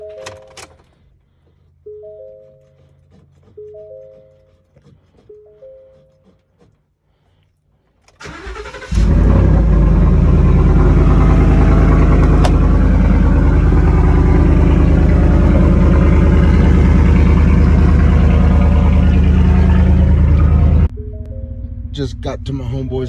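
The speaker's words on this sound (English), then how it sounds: "let's hear that cold start on the old F-150" A Ford F-150 pickup truck makes a cold start: a few soft warning chimes come first, then the engine cranks and catches with a sudden loud roar and settles into a heavy, steady idle before cutting off near the end.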